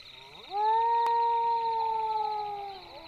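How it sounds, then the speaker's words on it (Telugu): A single long jackal howl rises in pitch and then holds a steady, clear wailing tone for about two and a half seconds before fading, close and alone with no talk. "అది నక్క అరుపురా."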